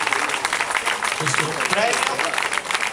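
Applause for an award winner at the Premio Rotonda 2011 ceremony, a steady clapping crowd heard under someone speaking into a microphone.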